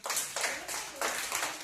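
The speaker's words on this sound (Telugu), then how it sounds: "Claps please." Children clap together in a room in a steady rhythm, with about five bursts of quick, bright, close claps, each lasting a fraction of a second.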